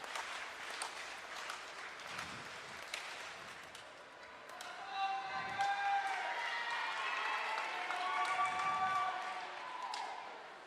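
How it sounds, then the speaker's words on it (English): Applause from spectators at a girls' high school swimming meet as a swimmer finishes her race, a soft, distant patter of clapping echoing through an indoor pool hall, swelling toward the end. "Everyone's clapping for Stella."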